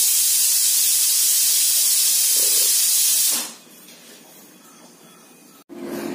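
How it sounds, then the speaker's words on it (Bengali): A pressure cooker vents steam in a loud, steady hiss for about three seconds, then fades to a quiet background, followed by a brief clunk near the end. "এই যে দেখো প্রেশার কুকারের ঢাকনা খুলে দিয়েছি"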